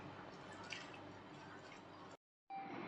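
Raw cauliflower florets are worked by hand into a thick spice masala for cauliflower 65. It makes soft, close, wet squishing and dripping sounds that stop for a brief silent gap before resuming.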